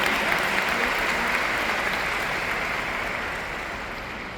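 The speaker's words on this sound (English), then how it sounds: "I really want to give a great applause to our boss, Mr." Sustained applause from a seminar audience in a hall, steady dense clapping throughout that fades slightly toward the end.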